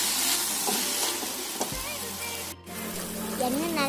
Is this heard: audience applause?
no